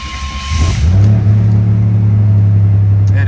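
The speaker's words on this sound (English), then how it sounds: "we're going to fire this Trans Am up" A 1989 Pontiac Trans Am Firebird pace car with fuel injection cranks briefly and fires up, settling into a loud, close, steady idle rumble.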